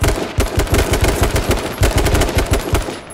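Loud, close gunfire in H1Z1 King of the Kill, rapid automatic bursts of sharp cracks in an uneven rhythm across a firefight, with no talk.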